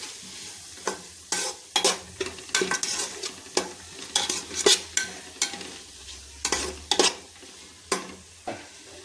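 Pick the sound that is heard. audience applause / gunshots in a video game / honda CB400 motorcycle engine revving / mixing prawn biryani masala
mixing prawn biryani masala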